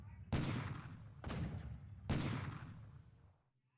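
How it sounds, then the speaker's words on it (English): Naval bombardment gunfire in the War in the Pacific wargame: three heavy booming blasts, each followed by a long, rumbling decay. "And now we're bombarding Kavieng, because I want to take that base quickly."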